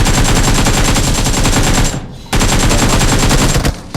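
Rapid automatic gunfire in the PUBG Mobile battle royale game during a hot-drop fight, loud and continuous bursts that break off briefly near the midpoint and then resume, with no talk over it.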